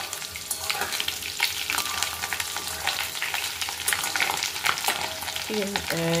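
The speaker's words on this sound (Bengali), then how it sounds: "আলুটা সেদ্ধ করে নিয়েছি, এখন ভেজে নিচ্ছি।" Boiled potatoes fry in a pan with a steady, close sizzle and crackle, joined by occasional stirring scrapes and a brief tonal clink near the end.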